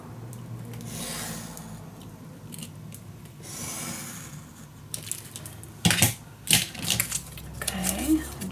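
Paper being cut by hand for a baby-themed mini album, several short snipping and rubbing strokes close by, with louder crisp cuts in the second half.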